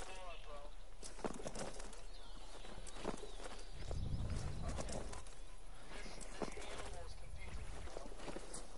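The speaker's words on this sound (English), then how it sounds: "Okay, I hear the footsteps of the animal." Animal hooves step across open ground in the African hunting video game Hunting Simulator, a scattered run of soft clip-clop thuds under faint bird coos and a low rumble.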